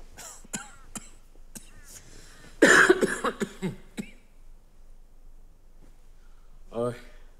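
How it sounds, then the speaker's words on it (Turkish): A woman gives a harsh burst of several rough coughs in quick succession, loud and close. Quiet talk comes before and after. "Kötü öksürüyorsunuz."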